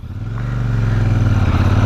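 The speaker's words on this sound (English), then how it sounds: "Very distinctive sound that I feel only Royal Enfields make, because of the rumble and this deep exhaust note." A Royal Enfield Super Meteor 650 motorcycle idles with a deep, steady, throbbing exhaust rumble, close and loud throughout, without any voices.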